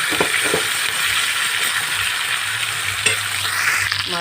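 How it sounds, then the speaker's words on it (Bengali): Katla fish head rubbed with salt and turmeric fries in hot oil, giving a steady close sizzle and hiss with a few soft clinks of stirring, no voices. "তেলটা গরম হয়ে গেছে, আর এই যে নুন হলুদ মাখা মুড়োটা আমি ভাজতে দিয়ে দিচ্ছি"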